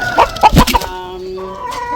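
Blue and black Australorp chickens with a blue Australorp rooster cluck loudly and close by in a short burst of overlapping calls, which then fades to quieter clucking.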